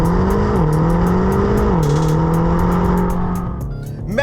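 A BMW XM plug-in hybrid V8 accelerating hard, its loud, close engine roar climbing steadily in pitch with brief dips at two gear changes before easing off near the end; no voices.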